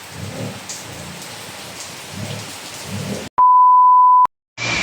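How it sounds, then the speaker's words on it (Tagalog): Heavy rain pours steadily in Davao, a dense continuous wash with low rumbling undertones, cut off near the end by a sharp steady electronic beep before the downpour resumes. "Kaya tuwak-tuwak na ang ulan diri sa Davao guys."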